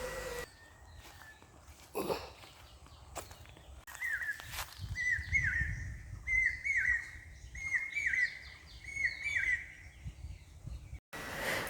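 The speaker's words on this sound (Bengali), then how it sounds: "কোকিলের ডাক শুনতে পেয়ে মনে হচ্ছে যে বসন্ত চলে এসেছে" A distant Asian koel calls in a rural village, its repeated whistled notes coming in a rhythmic series of rising phrases over quiet background rustles and a few soft footsteps.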